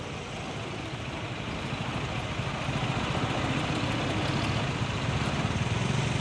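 A heavy truck engine rumbles steadily at idle nearby as the truck turns around, a continuous dense drone that swells slightly as it goes on.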